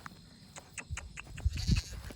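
Goats on a homestead bleating in a few short calls close by, a louder burst near the end over faint farmyard rustle, with no talking.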